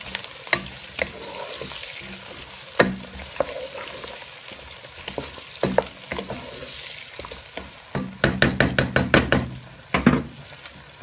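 Carrots and potatoes frying for a vegetable pilau, stirred with a utensil that knocks and scrapes against the pan over a constant sizzle, ending in a quick rapid burst of rhythmic clatter, loud and close with no speech.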